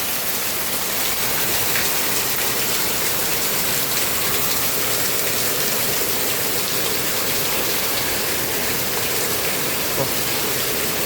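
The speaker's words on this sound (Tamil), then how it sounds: "தொடர்ச்சியாக பெய்து வரும் கனமழை." Continuous heavy rain in Sri Lanka, a dense, loud, unbroken hiss of downpour striking surfaces and pooling water, steady from start to finish with no voices.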